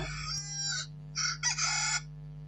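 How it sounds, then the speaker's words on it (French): A rooster crows nearby in a loud, clear call broken into several drawn-out bursts over a low steady hum. "le coq français, mon réveil"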